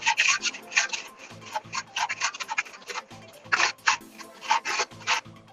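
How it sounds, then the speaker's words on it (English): Repeated short rasping strokes of sandpaper on a metal knife blade, sanding off burrs along the edges, brisk and uneven in rhythm, close and fairly loud. "just kind of sanding off all the burrs on the edges"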